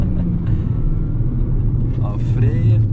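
A Chery Tiggo 7 SUV with a turbocharged engine under kickdown acceleration, a steady loud cabin rumble of engine and road noise heard from on board, with a faint rising tone near the end.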